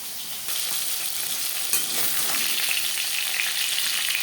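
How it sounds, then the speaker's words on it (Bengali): Koi fish frying in hot oil, a loud continuous close sizzle with bubbling crackle and occasional stirring scrapes, steady throughout with no voices. "মাছ ভাজা হয়ে গেছে তেল ঝরিয়ে একটা পাত্রে উঠিয়ে দেবো"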